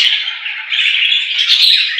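A budgerigar chick, injured after its mother attacked it, gives a continuous loud, harsh squawking call at close range, unbroken for the whole stretch with no other sounds.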